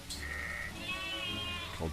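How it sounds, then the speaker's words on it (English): Video-game sheep bleat twice in quick succession, a nasal, wavering cry close up followed by a shorter bleat, over a quiet game background. "These are some sheep"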